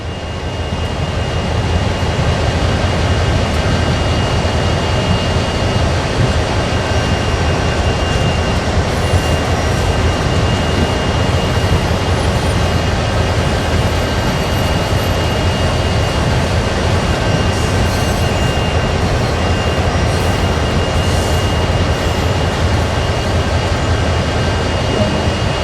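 A CSX heavy haul freight train in Train Sim World rolls to a stop, giving a loud, steady, unbroken rumble of engine and rail noise that holds even throughout.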